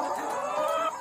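Chickens cluck in a coop at night, several birds' overlapping, close, fairly loud calls in a brief burst.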